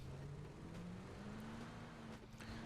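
Vehicle engine in the video game PUBG, heard faintly in the background with a low engine tone rising slowly in pitch as it revs, and no talking.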